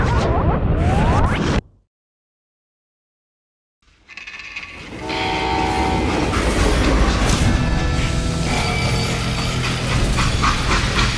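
A freight train rumbles past in Call of Juarez: Gunslinger, loud and close. The roar cuts to near silence for about two seconds, then returns as a steady rolling clatter with a horn-like whistle and screeching metallic tones.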